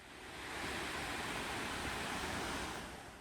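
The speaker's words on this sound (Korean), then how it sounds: "바로 쌍폭포가 나옵니다." Twin waterfalls along a cliff trekking course, heard as a steady, broad rushing roar that swells in and holds evenly, with no voices.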